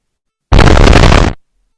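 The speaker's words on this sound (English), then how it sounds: "Look at that, man. What a massive explosion." A massive explosion from an MD-11 plane crash: a sudden loud, broadband roaring blast lasting under a second, then cutting off abruptly into silence.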